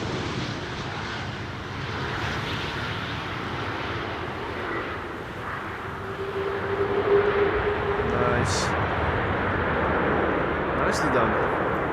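A plane lands at Amsterdam Schiphol Airport, a broad distant engine roar that swells midway and holds steady, with a person talking over it.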